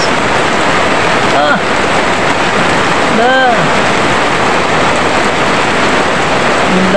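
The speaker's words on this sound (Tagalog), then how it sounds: "Lakas ng ulan guys, oh, lakas." Heavy rain pours down in a steady, loud, dense roar that fills the whole clip, with a voice briefly exclaiming over it.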